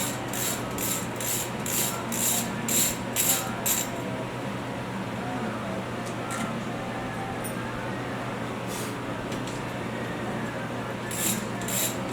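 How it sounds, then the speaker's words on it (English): A ratchet spins out the bolts on an RCD brand cam gear drive, giving bursts of quick, evenly spaced clicks at the start and again near the end over a steady background hum. "it's just a simple matter of spinning the bolts out"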